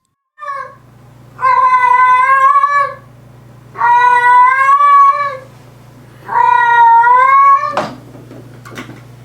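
A cat gives three long, loud yowls with even gaps between them, each drawn-out wail wavering in pitch over a low steady hum, followed by a brief clatter at the end.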